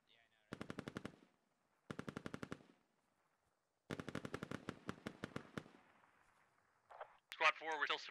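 Machine gun suppressive fire in the video game Squad comes as three sharp, rapid automatic bursts separated by short silences, followed by a few louder, shorter distorted shots at the end.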